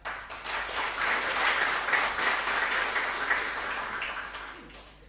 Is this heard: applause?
yes